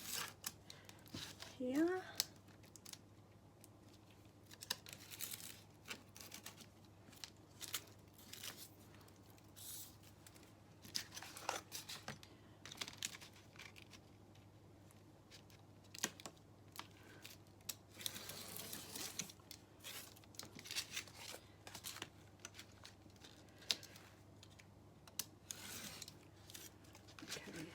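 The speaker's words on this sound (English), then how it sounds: "I'm just gonna trim up these excess bits" Scissors snip and trim excess paper from an A3 collage, a series of quiet, close cutting and rustling sounds scattered through the clip, with a person talking intermittently over them.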